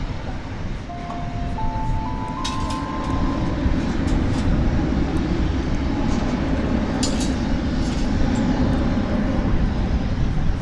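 An American Eagle Embraer 175 jet from Oklahoma City, flight 3895, rolls at DFW Airport at night, a steady broad engine roar that holds and swells slightly, with brief higher whines and tonal notes over it.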